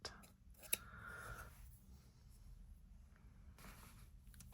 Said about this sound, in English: I'm going to cut myself off a length of that.